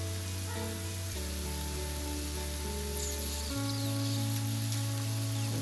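Sautéed onions with mint leaves fry in a pan for a Saudi-style murgh masalam, a soft steady sizzle under a loud, shifting low kitchen hum.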